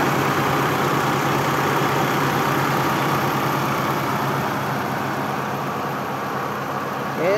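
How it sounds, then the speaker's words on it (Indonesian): A used Daihatsu Charade Classy car engine idles steadily, a continuous low, smooth hum heard close up in the engine bay with no talk over it. "Nah, ini untuk ruang mesinnya. Mesinnya masih kering, halus ya mesinnya ya."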